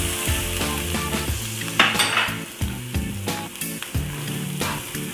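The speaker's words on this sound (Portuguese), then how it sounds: "Deixar ela refogar um pouquinho aqui," Chopped onion sautés in a hot frying pan, a steady sizzle broken by repeated scraping and stirring clatters of a utensil against the pan, close and fairly loud.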